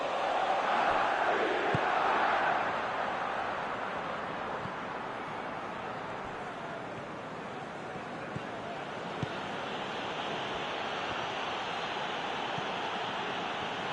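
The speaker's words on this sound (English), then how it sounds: "at least the crowd are appreciative of his efforts" A football stadium crowd roars and applauds after a shot attempt, a broad, distant wash of noise that swells at first and then settles into a steady murmur with occasional faint claps.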